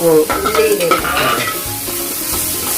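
A helper stirs and sautés in a pan for a Kanthari beef kizhi dish, producing close, steady sizzling and scraping without talk.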